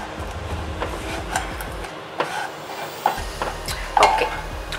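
A spoon stirs roasted vermicelli and condensed milk in a pan, making soft scraping and occasional clinks against the pan over a low rumbling background, with no voices.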